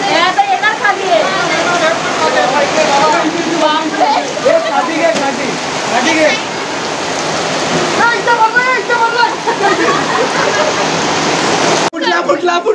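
Heavy rain pours steadily in a dense, loud wash during a power cut at a Ram Navami gathering, water leaking through the roof, while people shout urgently over the downpour.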